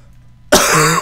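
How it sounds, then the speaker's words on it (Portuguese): A man with a heavy cold gives one sudden, loud, harsh cough close to the microphone after a quiet moment, with a raspy, throaty tail. "Desculpa pela tosse"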